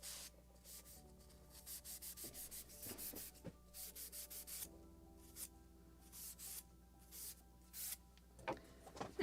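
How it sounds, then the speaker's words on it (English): A Scotch-Brite pad rubbed over the wooden hull planking of a model gunboat Philadelphia from 1776, quiet close scrubbing in quick repeated strokes that come in bursts with short gaps. "But first a little more polishing. With a Scotch-Brite."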